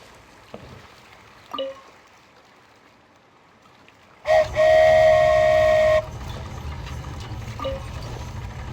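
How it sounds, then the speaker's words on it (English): A toy train ride in the Genshin Impact video game: a few faint clicks, then a sudden steady steam-whistle-like tone that holds for a couple of seconds before settling into a continuous rolling hum. "So this is what it feels like to ride a toy train."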